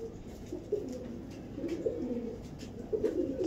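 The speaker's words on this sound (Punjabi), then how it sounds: "ਇਹ ਉਹ ਕਬੂਤਰ ਆ ਜੀ" A pigeon coos in soft, repeated low calls, steady and fairly close against a quiet background hiss, with no talking.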